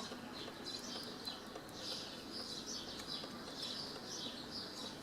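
Birds chirp and call outside an open window on a sunny day, a steady scatter of light tweets at a moderate distance, continuous and unaccompanied by speech.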